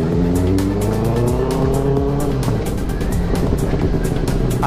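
A Benelli 600i motorcycle with a loud aftermarket exhaust roars continuously, its engine note rising and falling with revs, close and dominant throughout.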